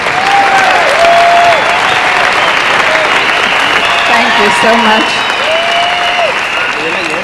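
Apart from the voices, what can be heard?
audience clapping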